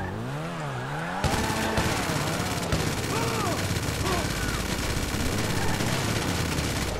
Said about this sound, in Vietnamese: Chính sao ở đây machine gun đây.